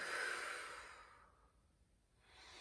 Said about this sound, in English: Really big inhale in. And open mouth exhale.